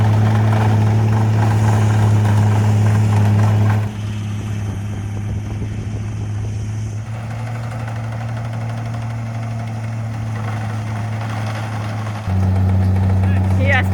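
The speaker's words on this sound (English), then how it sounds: "Jeremy's gonna learn how to use this 1961 hay cutter" A 1961 hay cutter engine running steadily with a deep chugging hum and vibration, dropping slightly in intensity for a stretch before surging back louder, heard close with a voice speaking over it.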